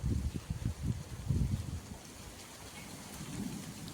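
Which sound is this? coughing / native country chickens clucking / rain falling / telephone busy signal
rain falling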